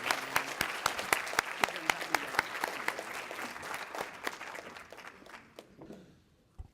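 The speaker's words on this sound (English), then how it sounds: "Can we give her another round of applause," Audience applause at a university graduation celebration, dense clapping from a large crowd that builds, holds steady, then thins out and fades near the end.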